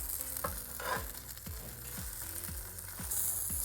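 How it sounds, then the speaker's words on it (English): Sirloin steak frying in olive oil in a pan, a steady close sizzle with a run of regular soft thumps or scrapes about every half second. "we're gonna put a little bit of olive oil in the pan and then just go in with our steak"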